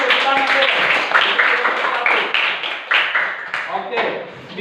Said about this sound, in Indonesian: Terima kasih teman Real, kita tepuk tangan.